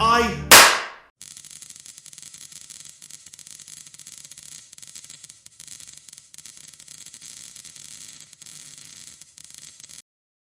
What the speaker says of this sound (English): And she shot my overseer.